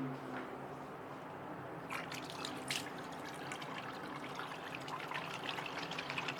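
Tap water running into a sink basin during handwashing, a steady quiet trickle with faint splashes building over several seconds.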